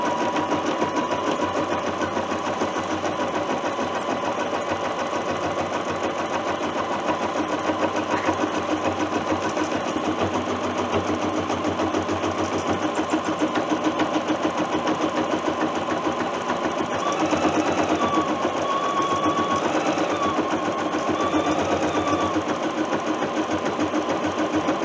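An embroidery sewing machine stitches a coffee cup cozy held in a hoop, giving a steady, continuous mechanical whir and rapid needle chatter close by, with slight shifts in tone partway through.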